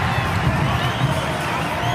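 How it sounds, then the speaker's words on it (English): A crowd at a rugby league match between Fiji and Papua New Guinea gives a dense, steady roar with cheering and scattered shouts. The noise is continuous and fairly loud, with no distinct claps standing out. "The bench applauds"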